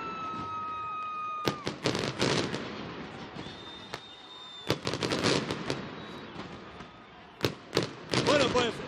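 Madrid New Year's Eve fireworks, with sharp loud bangs scattered across the clip and crackling bursts at mid distance, heard over steady crowd or broadcast background noise.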